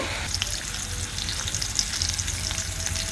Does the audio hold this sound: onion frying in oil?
yes